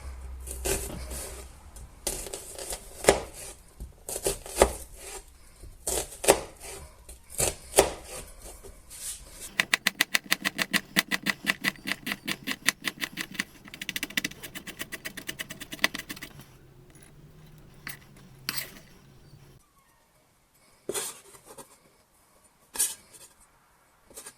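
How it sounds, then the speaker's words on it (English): Knife chopping onion on a board, bursts of quick rhythmic chops with pauses between, close and crisp, no voices. "we'll start off by chopping up some onion"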